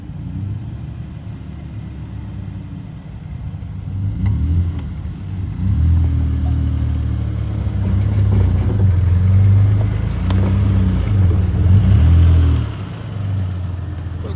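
Off-road vehicles, including a Jeep Gladiator, crawl along a trail after a hurricane, their engines rumbling low and steady with repeated throttle swells and revving, close and continuous with no talk.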